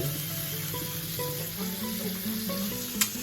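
Sausages fry in a pan with a steady, close sizzle throughout, over a soft tonal background and one brief click near the end.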